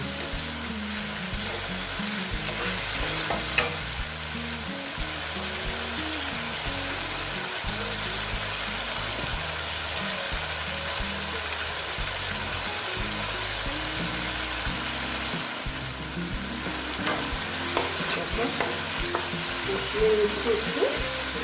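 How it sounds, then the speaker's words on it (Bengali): A mustard-paste tilapia curry base with Kashmiri red chili powder sautéing in a pan, a steady hiss under repeated stirring and scraping, close and constant. "কাশ্মীরি লাল লঙ্কার গুঁড়ো দিয়ে আবার একটু এটাকে কষিয়ে নিচ্ছি"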